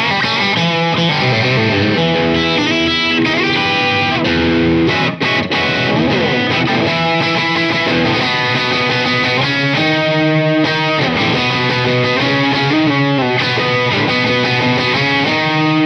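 A cheap TL1-style electric guitar plays through distortion and effects, chords and riffs ringing loud and continuous for about sixteen seconds with no talking.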